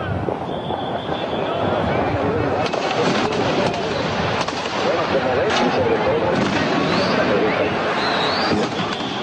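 Gunfire breaks out amid a large armed crowd at a street demonstration, heard as repeated sharp cracks and bangs over a dense, continuous roar of crowd noise and shouting.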